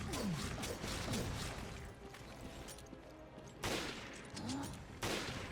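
Sniper rifle shots ring out in Resident Evil: Revelations, a few sharp, loud cracks spaced across a busy game soundscape with no speech.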